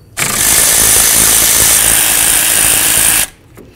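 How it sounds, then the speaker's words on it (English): Power tool loosening caliper slider bolts on a Chevy S-10 rear brake: a loud, steady high-pitched whir running about three seconds, starting and stopping abruptly, close by and alone. "I'm going to remove my caliper slider bolts here."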